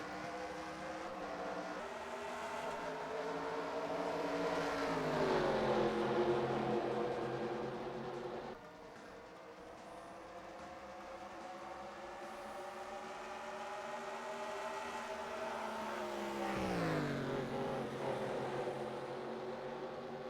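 Stock cars in a racing video game at Rockingham, engines droning loud and steady at full throttle, pitch sliding down and back up through the corners, with no voices over the sustained roar.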